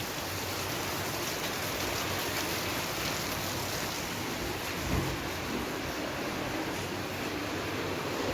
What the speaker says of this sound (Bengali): বৃষ্টিটা আরও জোরে এলো